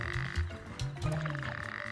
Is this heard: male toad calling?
yes